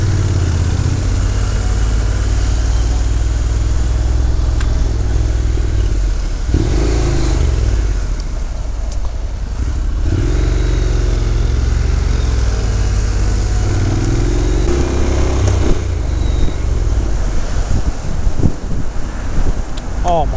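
Motorcycle engine droning steadily during a ride through London streets, largely buried under heavy wind noise on the microphone, with a few swells in engine pitch as it revs.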